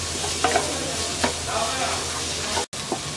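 Chopped green and red capsicum stir-frying for restaurant-style fried rice, a dense steady sizzle with light spatula scrapes and taps, close and loud, briefly cutting out near the end.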